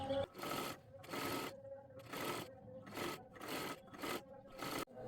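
A sewing machine stitches a double seam in quick bursts of rapid clatter, about seven short runs separated by brief pauses, close and moderately quiet.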